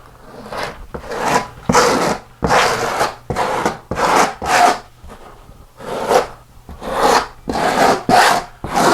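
A trowel smoothing thinset over Kerdi board joints in repeated scraping strokes, close and fairly loud, each pass a short rasping sweep with brief pauses between.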